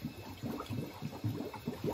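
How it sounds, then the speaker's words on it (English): Air bubbling and gurgling through the water of a gas hot-water heating system with a low-set pressure reducing valve, a steady close stream of irregular burbling bursts. "Once that bubbling stops, you got all the air out."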